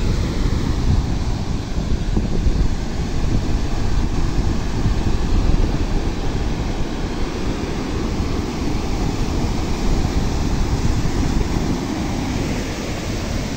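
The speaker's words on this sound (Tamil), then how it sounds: "இப்படி கடல் அடிக்குதுன்னு பாருங்க. சரியான கடல் அடி." Rough sea waves pound the shore at Thalaiyadi in a continuous heavy roar, thick with gusting wind buffeting the microphone and no distinct breaks between surges.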